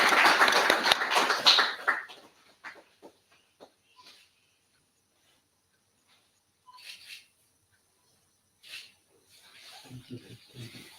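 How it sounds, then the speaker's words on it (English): Audience members at a university lecture session applaud in a brief burst. The clapping fades within a couple of seconds, leaving a few scattered claps and faint room noises. "please put a big round of applause"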